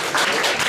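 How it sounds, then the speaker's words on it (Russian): A brief, loud burst of audience applause at a poetry theatre evening in a rock cafe, dense clapping filling the whole moment. "Спасибо, Стефания Данилова, аплодисменты."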